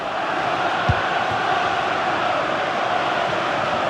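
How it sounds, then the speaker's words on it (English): A stadium crowd roars during a football match in the FC 26 video game, a dense, steady wall of fan noise that holds loud and unbroken throughout. "The noise level's certainly gone up and there is still time for a winner and you just feel the fans know it."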